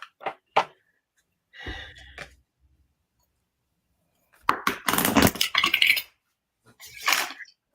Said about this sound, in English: Is my shuffling like especially loud, or is that just me?